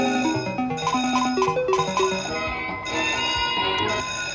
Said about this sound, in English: Those bells just keep on going.